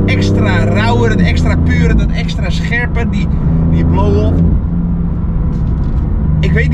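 A BMW M4 GT4 race car engine drones loudly and steadily from inside the car, its pitch rising and dipping slightly as it drives, while someone talks over it throughout.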